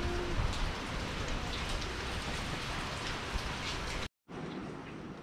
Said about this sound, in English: We will go now in the rain.